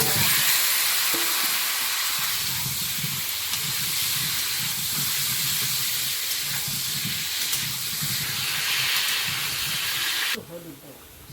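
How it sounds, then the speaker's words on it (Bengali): Potatoes fry in salted oil in a kadai, a steady loud hissing sizzle that runs for several seconds close by, with a voice speaking faintly under it and a brief clatter near the end. "তেলের মধ্যে লবণটা দিলে আলুটা ফাইন ভাজা হবে"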